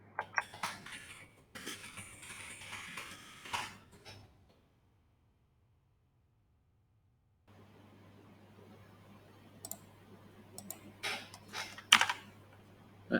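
Someone types keyboard shortcuts on a computer keyboard, with quick bursts of close, crisp key clicks, a long silent pause, then more scattered taps and sharper presses over a faint steady hum.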